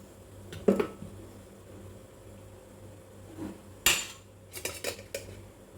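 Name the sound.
idli plate placed into steamer pot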